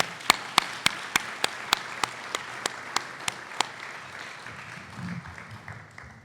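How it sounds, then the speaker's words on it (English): A few luncheon guests clap for student honorees at a scholarship luncheon, about a dozen sharp, evenly spaced claps ringing out over a soft bed of scattered applause that fades into room murmur. "let's give another round of applause to all our honorees, amazing students"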